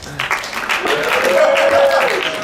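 Audience at an improv comedy show breaks into applause, a dense wash of clapping that swells and holds steady for a couple of seconds, with a voice briefly audible over it.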